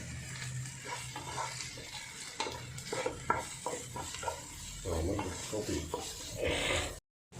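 Kashmiri chili and spices stirred in a pan for chicken varattu, a soft sizzle with repeated scraping strokes of a spoon against the pan, close and quiet, ending in a brief silence.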